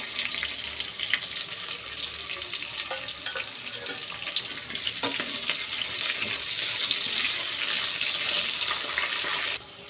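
Chopped onions sizzle in hot oil in a pan, making a steady hiss and crackle with small pops throughout, heard close up and alone.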